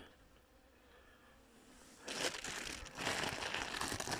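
Plastic foil is laid over the frames of a beehive box: quiet handling at first, then loud close crinkling and rustling in two bursts.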